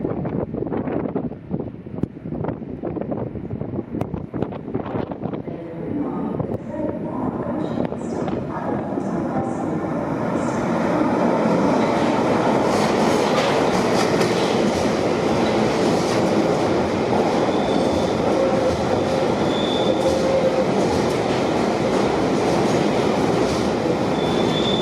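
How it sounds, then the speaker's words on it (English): A subway train approaches through a tunnel, pushing air ahead of it, a rising roar of rushing air and rumbling wheels that grows loud and sustained, with faint squeals. "the train is now coming down the tunnel, pushing the air in front of it"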